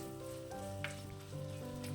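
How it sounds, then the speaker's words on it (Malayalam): Steady sizzling of ginger frying in hot oil over full flame, close and continuous, with a few brief clinks over the bubbling. "ഇനി ഇഞ്ചി വറുത്ത് കോരണം."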